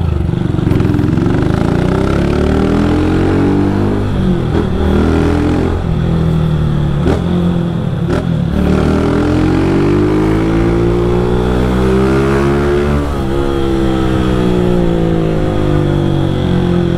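A Honda Start 160 motorcycle fitted with Monaco GRS rims rides past close and loud, its engine pitch rising and falling through repeated revs and gear changes.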